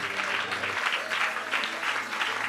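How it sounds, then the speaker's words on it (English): A church congregation at a fervent prayer service claps together, loud, dense and continuous applause filling the room, with a low sustained hum beneath it in the opening moments. "Everybody, clap your hands and pray."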